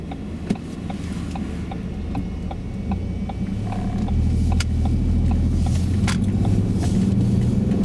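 A learner driver's car moves off from a T junction: a low engine rumble that swells partway through, a steady ticking indicator clicking in the background, and no talk.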